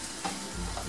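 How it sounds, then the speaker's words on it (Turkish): Spiced minced meat for konak kebab frying in a pan is stirred, giving a brief close sizzle with a soft scrape of the spoon, no voices. "Karıştırıyorum."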